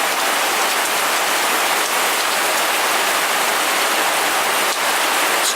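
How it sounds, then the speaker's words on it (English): Hail mixed with heavy rain hammers down in a Seattle spring storm, a constant loud, dense roar of impacts with no voices. "Still hailing, Zachariah."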